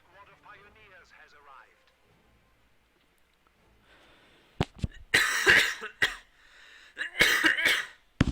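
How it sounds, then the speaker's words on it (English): A few quiet spoken words, then a burst of harsh, close coughs in two clusters, loud and raspy with short pauses between. "Sorry about the coughing."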